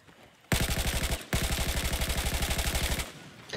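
Automatic gunfire in the video game Battlefield. Two loud, close bursts of rapid, evenly spaced shots cut in sharply, with a brief gap between the bursts, and no talking.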